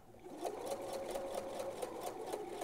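A sewing machine stitches fabric for men's boxers with a close, steady mechanical whir and a rapid rhythmic needle chatter that runs continuously.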